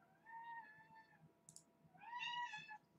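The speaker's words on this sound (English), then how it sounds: "That's the noise a cat makes." A pet cat named Pippa gives two drawn-out meows, the second louder and more strained, close by and quiet, with soft keyboard clicks tapping underneath.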